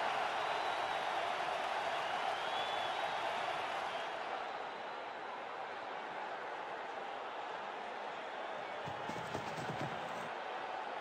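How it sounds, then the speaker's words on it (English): A cricket video game crowd roars after a six, a dense, steady wash of cheering that holds loud for the whole stretch. "Crowd's gone mad."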